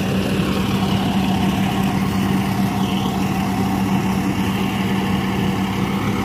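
A John Deere 5405 CRDI tractor engine runs steadily at a low even rumble with a constant hum, close and unchanging throughout with no talk over it.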